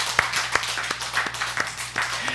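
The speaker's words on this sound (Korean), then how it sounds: "박수로 하나님께 영광 올리겠습니다" A church congregation claps together in a steady, fairly quick rhythm, the loud hand claps filling the room briefly under a low hum, with no talking over it.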